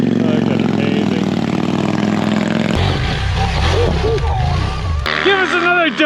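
A hot rod's engine revs loud and close during a brake stand, a sustained roar that shifts pitch twice and crackles with squealing tire noise, while people cheer and talk over it.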